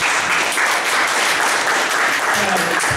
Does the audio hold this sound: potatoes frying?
no